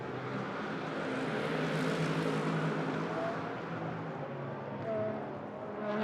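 A Phoenix Audi GT race car thunders along the back straight during free practice at the Moscow round of a GT sprint series, a sustained engine roar swelling and easing slightly over several seconds.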